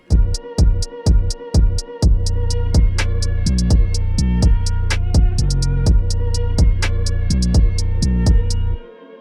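A hip-hop beat built from samples of vinyl records thumps along with punchy kicks and crisp snare hits over a sustained bassy musical bed, in a steady loping rhythm that cuts out near the end.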